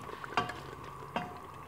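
Chicken frying in cooking oil for chicken tindy, a steady soft sizzle with two brief scraping stirs of a spoon against the pan, close and quiet.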